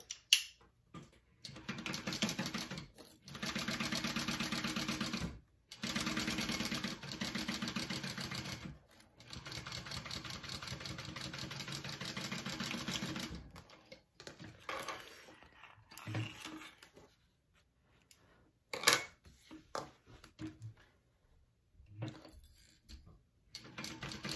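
A sewing machine stitches half-inch seams along both sides of a crossbody wallet. Several steady runs of close, even whirring are broken by short pauses. No one speaks.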